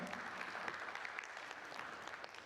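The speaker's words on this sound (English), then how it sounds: "Can we have a huge round of applause for him?" Conference audience at a food safety summit applauding a speaker being introduced, a quiet, distant, even wash of clapping hands throughout.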